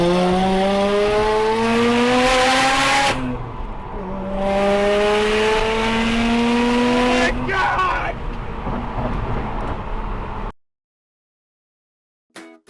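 A vehicle on a highway drops a gear and accelerates behind a slow bus. Engine pitch climbs in two rising sweeps with a shift between them, then a rougher burst. After that the sound cuts off abruptly into near silence before a brief noise at the end.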